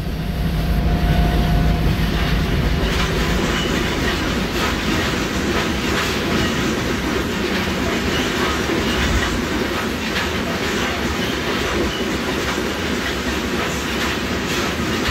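An ST44 diesel locomotive hauling a train runs in the MaSzyna rail simulator game, a loud, continuous rumble with rhythmic clattering of wheels over rail joints throughout, no voices.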